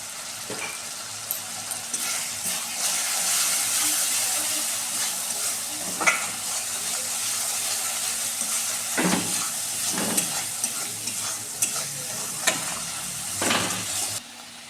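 Spices with salt and turmeric frying and being stirred in a pan for Bengali prawn malai curry, a steady close sizzle with intermittent scraping stir strokes throughout, no talking.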